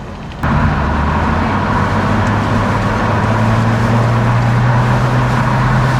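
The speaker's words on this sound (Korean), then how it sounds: "자 이제 저희가 고속 주행을 한번 해보겠습니다" Steady loud rumble of a Porsche 911 cruising at highway speed around 100 km/h, constant road, wind and engine noise filling the whole clip without letup.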